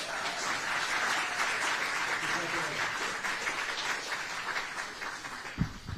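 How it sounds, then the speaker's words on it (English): An indoor audience at a bill signing for New Jersey pre-K funding legislation breaks into dense, steady applause that carries on for several seconds, with a faint voice surfacing at the end. "I started the applause."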